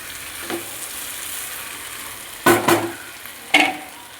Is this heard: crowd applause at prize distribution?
no